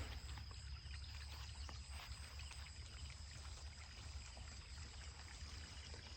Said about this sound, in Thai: วันนี้เราต้องรดน้ำต้นไม้นะคะ